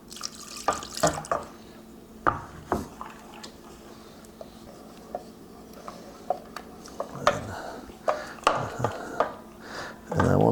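Milk poured into a saucepan while making a from-scratch cheese sauce for mac and cheese, a faint close liquid trickle with scattered drips, light pan clinks and bumps throughout.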